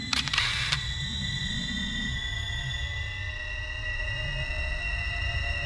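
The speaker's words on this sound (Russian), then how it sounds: "Нужно сфотографировать эти две картины, и тогда мы увидим символы." Camera shutter clicks from photographing paintings in the horror video game Silent Hill: a quick cluster of sharp clicks at the start over a low droning ambient hum that continues alone.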